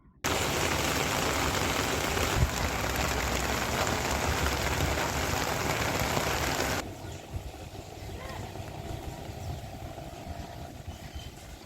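Heavy rain with thunderstorm roars in a dense, steady wash over a city, then drops abruptly to a softer, lighter patter for the remaining seconds.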